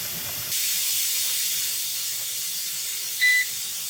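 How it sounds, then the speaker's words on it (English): A steady, loud hiss of steam escaping from a digital pressure canner starts abruptly and continues, with a brief electronic beep near the end. "maybe you can hear that steam starting to come out"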